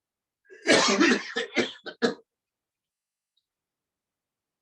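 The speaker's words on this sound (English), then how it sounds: "Again, breathe in and cough again." A series of about four or five sharp deliberate coughs after a deep breath, part of a pranayama lung exercise, close to the microphone, tapering off, then silence.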